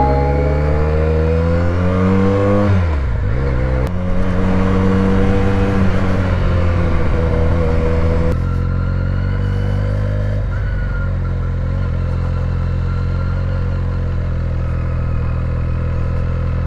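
A 2020 Benelli 302 BN motorcycle engine revs hard between 8,000 and 9,000 rpm, its pitch climbing and dropping through several sweeps, loud and close with a buzzing, harmonic-rich whine.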